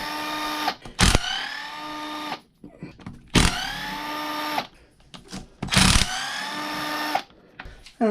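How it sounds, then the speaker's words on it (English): Power tool whirring in three separate bursts with rising and falling pitch as bolts are backed out during a vehicle teardown with an optional sway bar, close and loud, with short gaps and some handling noise between. "We just have to pull out 4 more bolts here."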